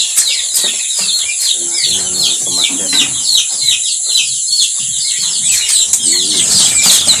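Newly hatched chicks from an incubator and a white turkey, heard as a dense, continuous chorus of high chirps and peeps with occasional clucking and wing flutters, close and steady throughout with no talk.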